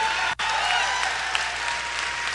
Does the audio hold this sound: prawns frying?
no